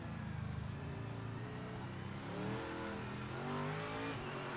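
A race car in the video game Project Motor Racing revs and accelerates through the gears, its engine tone rising and falling in smooth sweeps, steady and continuous with no speech.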